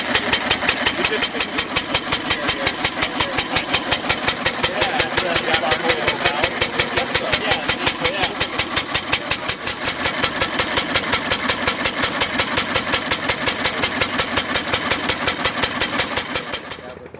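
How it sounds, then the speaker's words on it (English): A running reproduction early automobile engine, built around a real engine and tied to kerosene-era fuel, idles at a museum auto show with a steady, rapid mechanical chuffing. It is loud and close and keeps the same even rhythm throughout. "Actually runs on a real linear engine, so it's a reproduction."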